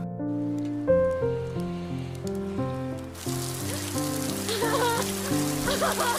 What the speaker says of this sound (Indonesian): tiba-tiba saja hujan turun dan tentunya membuat Tami merasa sangat bahagia